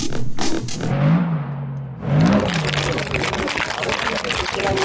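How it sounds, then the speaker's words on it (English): A cocktail shaker filled with margarita mix is shaken at the Le Mans race, a dense rattling rush of ice under a talking voice. "The sound of a cocktail being shaken by my great friend and associate, Zog, who's brought the kit to make margaritas"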